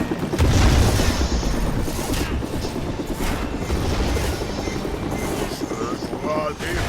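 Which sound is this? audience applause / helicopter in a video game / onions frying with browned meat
helicopter in a video game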